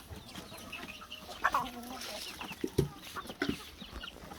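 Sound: Sultan chickens clucking on a farm

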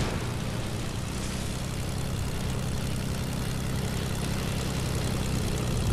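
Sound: enemy plane flying overhead in a video game

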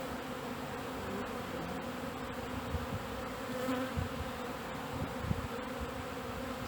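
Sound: honey bees buzzing in hive

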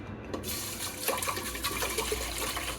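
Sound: pouring two litres of milk into pot

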